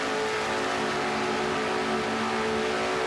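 A race car revs to 10,000 rpm in an auto racing video game, a loud, continuous, high-pitched engine drone held steady throughout.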